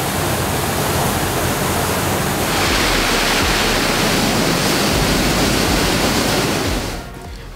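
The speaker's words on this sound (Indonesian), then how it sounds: "di sini juga ada air terjun yang saya rasa ini salah satu yang terindah yang ada di Kalimantan" Loud, continuous roar of the waterfall at Rampah Tumaung in the Meratus area of South Kalimantan, a dense close-up rush of falling water that holds steady and then fades slightly at the very end.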